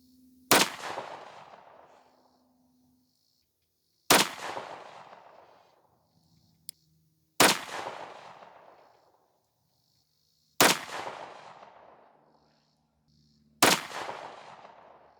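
Five loud 9mm shots from a Glock 43X pistol firing Sig V-Crown 115gr JHP rounds at an outdoor range, evenly spaced about three seconds apart, each a sharp crack with a ringing decay and no talk.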